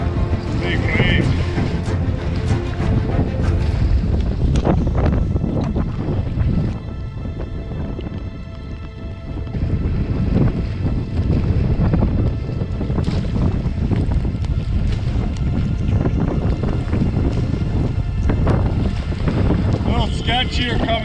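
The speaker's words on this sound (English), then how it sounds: "Oh, some big waves." Big waves slap and churn against a boat in strong wind on a northern Manitoba lake, with loud continuous wind buffeting the microphone and irregular splashes throughout.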